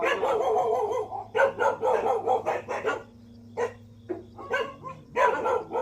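A dog in heat barking repeatedly in quick bursts of sharp barks and yips, close and loud, with short pauses between volleys and a steady low hum underneath.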